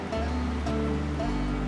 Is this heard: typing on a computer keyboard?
no